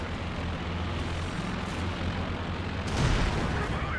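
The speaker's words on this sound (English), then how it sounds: "So many explosions. Yeah, this is just indirect fire all over the place." Artillery and indirect fire in a Company of Heroes 2 4v4 tank battle, a dense continuous rumble of explosions with low booms layered throughout and a louder blast near the end, no speech.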